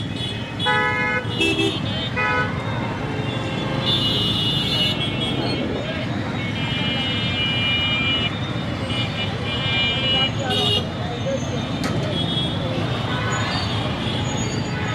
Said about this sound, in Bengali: ঢাকার মতো জ্যাম বন্ধুরা